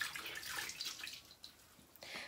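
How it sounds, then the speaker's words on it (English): A face wetted with a face cloth and water, soft close splashing and trickling water in a quiet room, fading briefly before another gentle splash. "So we're just wetting our face."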